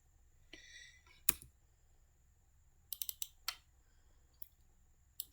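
Sharp, isolated clicks of a computer keyboard as keys are pressed while entering a spreadsheet formula, a few separate taps with one firmer strike, close and quiet in a still room.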